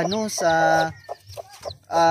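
A mother hen with chicks clucks and squawks close by in a few quick bursts, with short pauses between calls.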